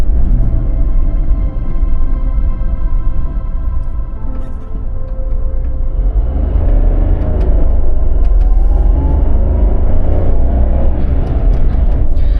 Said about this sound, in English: let me keep quiet for just a minute so you can hear like the sound isolation and everything while driving during a neighborhood